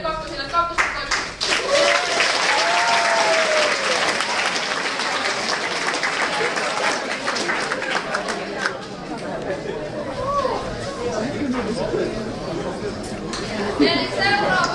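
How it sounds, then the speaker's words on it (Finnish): An audience at a school welcoming day claps for second-year students, with sustained applause that swells and then thins out, mixed with crowd chatter and voices talking over it. "Mutta taputtakaa kaikille kakkosille"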